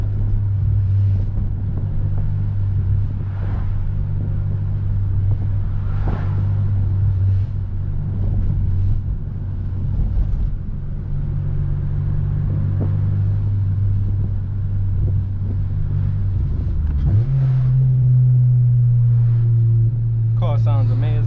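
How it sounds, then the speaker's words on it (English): An 8th-generation Honda Civic Si with a VTEC engine drones steadily from inside while driving, its low hum shifting higher toward the end as the revs change, with a voice talking over it. "Car sounds amazing."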